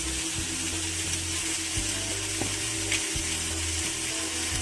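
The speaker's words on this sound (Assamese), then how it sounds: "অলপ ফ্ৰাই কৰি দিওঁ" Fish fries in a wok in its own oil for a traditional Assamese tribal dish, producing a continuous close sizzle with low scraping and knocking from stirring underneath.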